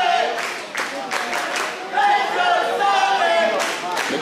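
Crowd at an unsanctioned independent wrestling show in Bacliff chanting for J-Sin Sullivan, rhythmic bursts of voices and clapping that swell and repeat, loud and close, with a commentator talking over it.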